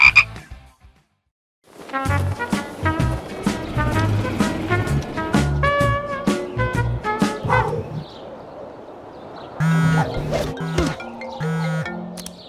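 Loud, repeated frog croaks sound over musical backing in a shirt shop advert, bursts coming in quick succession through most of the clip.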